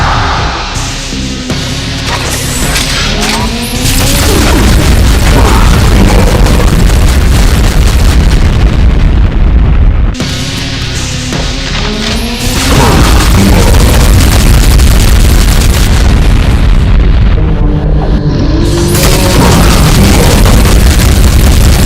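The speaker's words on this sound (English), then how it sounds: "rapid DBFG shots," Rapid DBFG shots from a Cyberdemon in a Doom mod erupt as heavy, roaring explosive booms, sustained and loud with a short drop around the middle before another surge.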